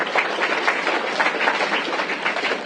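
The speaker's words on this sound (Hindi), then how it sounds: "Very good. ताली में आओ उसके लिए।" An audience at a motivational talk claps in a brief, dense burst of many hands, steady and fairly close for under three seconds.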